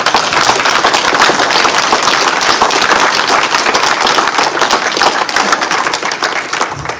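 Loud, dense applause from a large audience fills the hall after a speech at a greyhound derby final, steady throughout and tapering slightly at the end.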